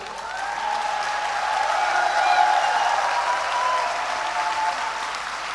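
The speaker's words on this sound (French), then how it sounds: "j'aime mieux entendre les applaudissements électriques" A large conference audience of about 1,500 people breaks into sustained applause, a dense and steady wash of clapping that swells slightly toward the middle and continues throughout with no talking.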